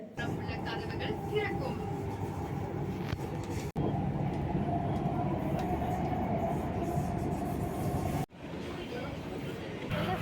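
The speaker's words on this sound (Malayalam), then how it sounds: "ഇപ്പം നമ്മൾ മെട്രോ കയറാനായിട്ട് പോവാണ്" A Chennai metro train rides along with a steady, loud rumble of wheels and car noise, broken by two brief dropouts and carrying faint talk under it.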